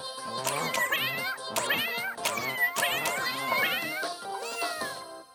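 A cartoon cat meows repeatedly in an animated series, several drawn-out, pitch-bending cries in quick succession, with speech from the show mixed in around them.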